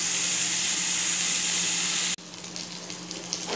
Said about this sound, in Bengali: সবজিগুলো ভেজে নিই। তেল খুবই কম, অল্প পরিমাণ তেল দিয়ে করা